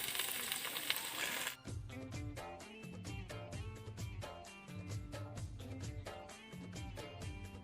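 Beans, eggplant, potato and peas go into a hot pan for a Chhattisgarhi home-cooked dish; a loud sizzle bursts at the moment they land, then settles into a dense, crackling fry with rhythmic stirring clatter.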